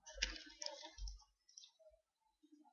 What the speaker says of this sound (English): So I'll double click now.